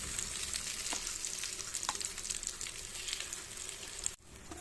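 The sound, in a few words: egg carrot paniyaram batter frying in oiled paniyaram pan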